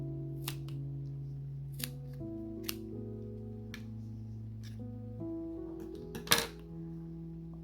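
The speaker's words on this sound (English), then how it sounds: "Now take your scissor and cut the sides" Scissors snip repeatedly through the sides of a yarn pom pom, giving several sharp close cuts spaced a second or so apart, with a louder crunching snip near the end over a steady background tone.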